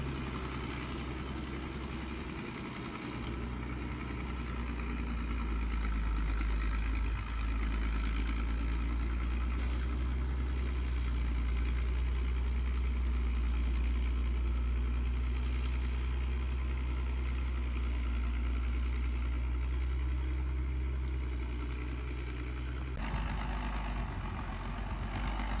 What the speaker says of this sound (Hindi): छह इंजन वाली गाड़ियां कीचड़ भरी ढलान पर धीरे धीरे लुढ़कते हुए गर्जना कर रही थीं।